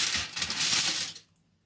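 Aluminum foil crinkles and rustles briefly, close up, as garlic heads are placed on it for oven roasting, ending abruptly in silence.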